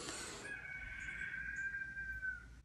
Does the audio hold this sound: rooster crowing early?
yes